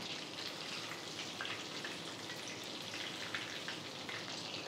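Chicken pieces deep frying in hot oil, a steady dense sizzle and crackle that runs without a break for the whole stretch, fairly close and with no voices over it.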